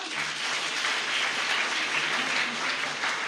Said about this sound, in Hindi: बहुत अच्छी तरह ताली तो बजाओ